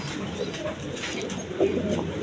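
Domestic pigeons of various breeds, kept in pairs for sale, coo softly in a loose, overlapping murmur with a faint bird chirp here and there, steady and close against a noisy background.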